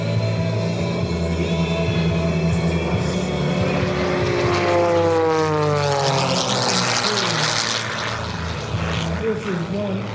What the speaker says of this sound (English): This is one outrageous airplane.